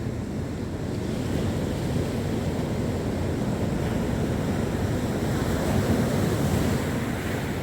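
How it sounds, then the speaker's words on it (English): Big sea waves break continuously on a beach at Gorleston, UK, as a steady, close rushing roar mixed with gusty wind buffeting the microphone, with no voices. "there's quite a few big waves about"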